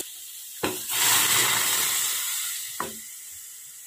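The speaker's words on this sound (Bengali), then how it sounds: "এতে আমি জল ব্যবহার করব।" Water added to a hot cooking pot: a sharp splash, then a loud hiss of steam that fades gradually over a couple of seconds before a second light knock, heard alone.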